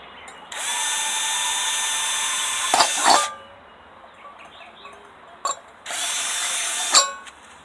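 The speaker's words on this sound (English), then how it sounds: "we'll drill a hole in the center and the bottom approximately." A cordless power drill boring a hole through a metal coffee can, giving two loud, close whirring bursts with a high whine, separated by clanks and handling knocks from the can, with no talking.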